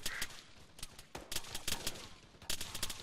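Close bursts of gunfire crack in quick irregular volleys, with several sharp shots and rapid strings of fire over a constant noisy background.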